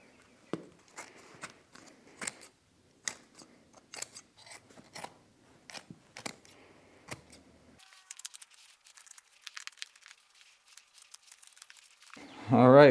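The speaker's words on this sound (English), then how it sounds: "I'm gonna cut all this access away." Scissors snipping away excess fuzzy seat cover material on a Suzuki Hayabusa motorcycle seat, with a run of sharp, separate close cuts at an uneven pace, then a brief louder rustle at the end.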